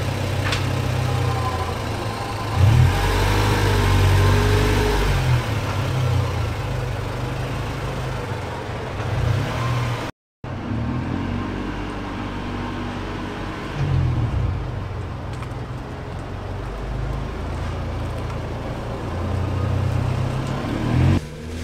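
A mid-90s JDM Honda Civic with a DOHC VTEC B16 engine runs steadily as heard from inside the car, swelling into a couple of revs, with a brief cut partway through.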